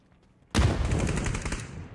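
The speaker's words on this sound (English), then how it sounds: "Just shooting at glider guy to get him off." Sudden loud, dense burst of automatic gunfire in PUBG, a duos match on the desert map Miramar, aimed at a player on a glider. It erupts after a quiet start and keeps rattling without a break.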